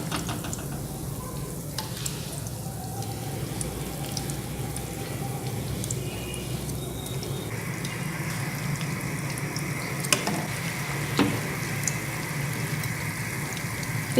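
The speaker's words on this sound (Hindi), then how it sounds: "इसको मीडियम फ्लेम पे फ्राई करें।" Potato puffs made from mashed potato fry in oil on a medium flame, giving a steady, moderate bubbling sizzle with occasional faint clinks, continuous and without talk.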